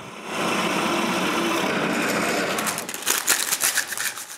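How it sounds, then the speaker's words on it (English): A power drill bores a hole into a clamped wooden workpiece for fitting a pen, giving a steady close whirring grind that turns rougher and uneven toward the end, with no voices. "I drill a hole anyway."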